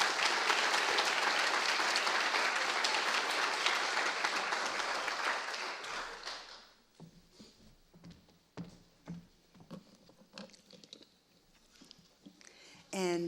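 An audience at a university faculty meeting claps loudly and steadily for several seconds, then the applause dies away into a quiet hall with scattered shuffles and small knocks.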